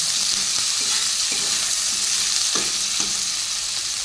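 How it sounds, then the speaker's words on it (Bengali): Grated ginger fries in a pan, giving a steady sizzling hiss with a few soft stirring scrapes, close and fairly loud, with no talking. "বেশি ভাজবো না আদাটা।"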